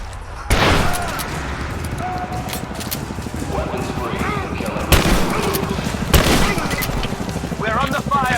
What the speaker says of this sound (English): We're under fire at the end of the village.